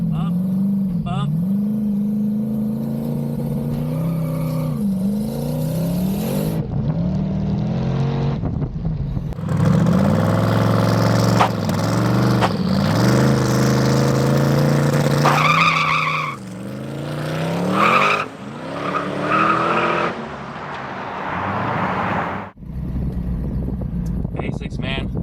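Car with a non-stock TH400 transmission launching off the trans brake, engine revving hard while the tires squeal in long wavering bursts, loud and close, with someone talking over parts of it.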